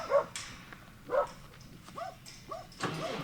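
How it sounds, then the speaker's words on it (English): A kelpie working on a farm gives about five short, sharp barks and yips spaced through a quiet outdoor scene, moderately near but not loud. "How about a kelpie at your heels?"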